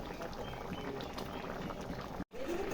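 Egg curry in a pan comes to a boil, a constant close bubbling and sizzling hiss that cuts out for a brief moment before resuming.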